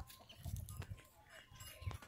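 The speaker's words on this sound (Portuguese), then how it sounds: "E aqui as galinhas." Chickens clucking and murmuring close by on a small farm in the rural sertão of Bahia on an afternoon as rain arrives, a short burst of low, busy fowl sounds with no talking over it.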